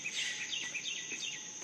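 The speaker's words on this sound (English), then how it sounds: "you can hear the birds chirping bright and early in the morning" Faint birds chirp in quick, high repeated notes early in the morning, a short burst of twittering from a little distance in a quiet setting.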